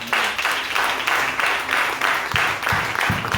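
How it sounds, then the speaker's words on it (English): A church congregation claps together in a sustained burst of overlapping applause, steady and fairly loud, with a few sharper individual claps standing out near the end. "Somebody clap for Jesus."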